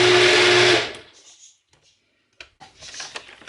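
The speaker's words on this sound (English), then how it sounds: "I never use my NutriBullet running for excessive length of time" NutriBullet blender blending plantain, a loud dense motor whir for under a second that cuts off and winds down, followed by quiet clinks and handling noises.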